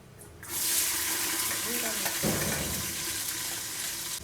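Two onions drop into hot oil with cashews in a pan for pulao, setting off a sudden loud sizzle that holds on as a steady, close frying hiss.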